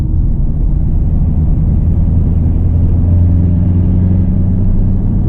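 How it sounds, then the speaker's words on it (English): Supercharged V8 of a 2016 Cadillac CTS-V with Corsa exhaust rumbling while driving, a loud, steady low-pitched drone heard from inside the car at constant level, without speech. "Still hear that Corsa exhaust rumbling away. It sounds amazing."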